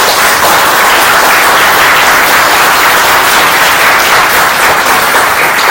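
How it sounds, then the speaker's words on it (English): An audience at an art archive panel discussion breaks into loud, dense, sustained applause, many hands clapping steadily and close without letup, with no speech audible. "I think we should give him a big round of applause."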